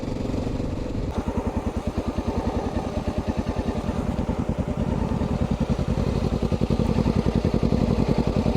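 A Honda XR650L motorcycle rides along a road, its single engine thumping in a steady, fast pulsing drone that stays loud and close throughout.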